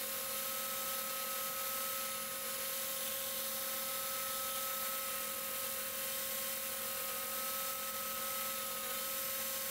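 A belt grinder running a used 36 grit ceramic belt sands a wooden knife handle, a loud, steady whining drone with strong sustained tones and an even abrasive hiss, continuous and close with no talking.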